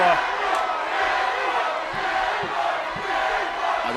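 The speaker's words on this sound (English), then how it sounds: "Fans here cheering for Joe Miolla." Fans at an LFA fight roar steadily for fighter Joe Miolla, a dense, continuous crowd noise that swells slightly without letting up.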